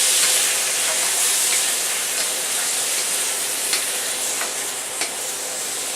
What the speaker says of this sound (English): Throw our shrimp in there, turn our fan on.